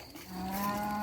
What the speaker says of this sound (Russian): Вот уже корову загоняет мне.